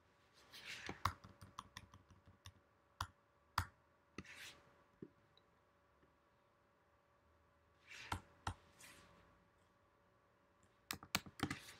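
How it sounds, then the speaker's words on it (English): Clicky keystrokes on a Mac computer keyboard come in scattered bursts and short runs with pauses between, close and fairly quiet in an otherwise still room. "And I'm going to type cd, that stands for change directory, into this web stuff."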